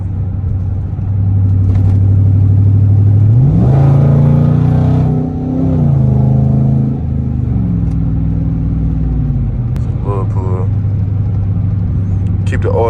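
A Dodge Charger RT Daytona engine revs and pulls through gears while driving, a loud close rumbling drone that rises and shifts in pitch, with someone talking over it throughout.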